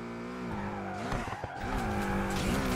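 A car swinging through a U-turn in the racing game Need for Speed Unbound, engine whining and rising with tires squealing and skidding through the turn, loud and close.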